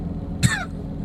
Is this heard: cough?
yes